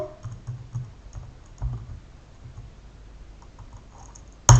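Quiet clicking keystrokes on a computer keyboard, typed in short irregular bursts with pauses, close and low in level, ending with a sharper louder tap.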